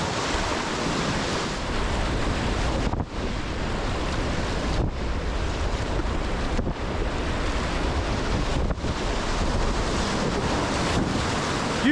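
Rushing whitewater and surf waves on the Lower Eagle River in Colorado pour in a constant loud wash while kayaking, mixed with steady wind buffeting the microphone.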